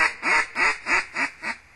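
Ducks quack during a waterfowl hunt, five loud, evenly spaced nasal quacks in a steady descending cadence, close and clear with no talking.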